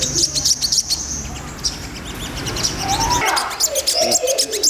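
A sunbird gives high, quick chirps and tweets at close range, repeated in short bursts over a low background rumble, with no one speaking.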